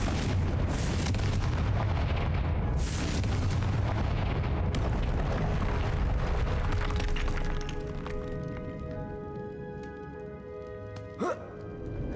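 The Confringo blasting spell in Hogwarts Legacy detonates with booming, explosive bursts amid dense game noise, the blasts fading into a quieter ringing, tonal tail with one brief sharp accent near the end.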